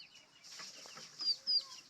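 Chickens on a backyard duck and chicken farm, raised free-range, cluck in short close bursts, with two louder calls near the end and a soft rustle between them.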